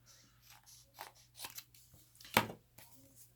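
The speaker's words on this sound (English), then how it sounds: "just take your scissors and trim that down" Scissors snip through a piece of fondant or sugar paste being trimmed to size, a few faint cuts ending in one sharp, louder snip, heard alone at close range.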